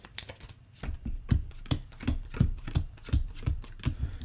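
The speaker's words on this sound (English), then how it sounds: "the rest of these cards will just get shuffled up" Playing cards are shuffled by hand in a tabletop game, giving a rapid run of crisp riffles followed by a series of close, rhythmic slaps and bridges, loud and alone without talk.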